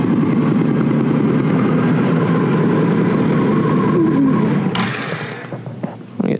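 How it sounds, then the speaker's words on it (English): A 2019 Can-Am Renegade ATV idles close by with a steady, throbbing low engine note that thins out and grows uneven near the end, followed by a few brief knocks and clatters. "Just sitting there idling."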